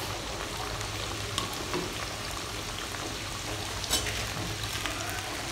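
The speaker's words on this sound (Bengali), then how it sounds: "তারপর আরেক বেস দিয়ে দিলাম ভাজার জন্য" A paratha frying in a pan gives a continuous close sizzle with a few faint clicks and scrapes, no talking over it.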